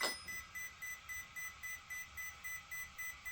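A Hobbywing 250A G2 ESC in an RC car beeps repeatedly during programming, a quiet high tone pulsing about three times a second in a steady rhythm, with no talk.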